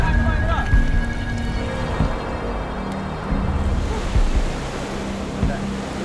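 Waves wash against a shore strewn with driftwood in a steady rushing roar with surging swells, loud and close, with no voices.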